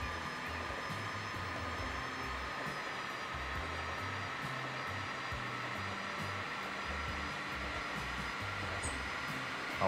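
An S-Bahn commuter train passes in the Transport Fever railway simulation game, a steady, even rumble and whoosh held at constant loudness throughout, with no talk over it.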